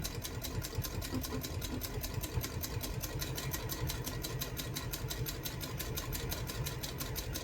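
A sewing machine stitches fast and steadily, its rapid needle strokes forming a dense, even mechanical chatter with a low motor hum throughout, loud and close with no talking.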